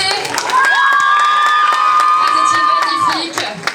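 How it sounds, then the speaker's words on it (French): Audience at the Miss Yonne 2024 beauty pageant cheering and shouting loudly, with high-pitched voices and some clapping, a short burst that fades at the end. "On les applaudit bien fort, s'il vous plaît."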